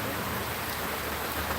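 Heavy rain pours down steadily, loud and close. The dense, even roar fills the whole clip with no breaks and no voices.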